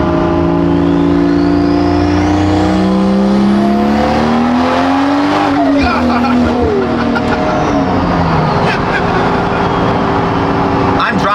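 An upgraded turbo Toyota Supra revs and accelerates hard while driven, its loud engine tone rising through the gears with a brief drop at a shift and road and wind noise under it.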